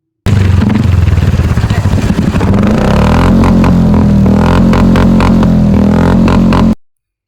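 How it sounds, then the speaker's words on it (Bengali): An old-model Royal Enfield Bullet 350 motorcycle thumps loudly from its exhaust close by, a rapid, steady beat that settles into an even idle for several seconds before cutting off. "তো তোমরা আশা করি বাইকের সাউন্ডটা শুনতেই পেলে, এক্সহস্টের সাউন্ডটা।"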